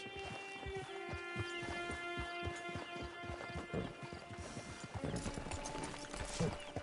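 Horse hooves clip-clop steadily in the Red Dead video game, a regular trotting rhythm close by with a faint musical drone underneath and a brief clatter near the end.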